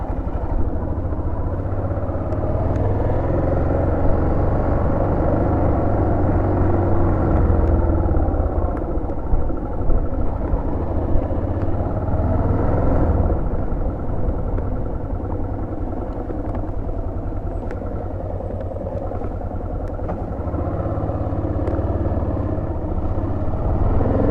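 A steady motorcycle engine rumbles throughout, with low, continuous mechanical noise and occasional clatter, fairly close.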